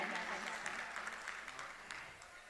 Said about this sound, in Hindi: इनके लिए भी तालियां बजा दें